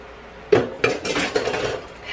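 Metal utensils scrape and clatter in a pan as meat is stirred into Singapore noodles and pad thai, several close, distinct knocks and scrapes in an irregular rhythm, with no talking.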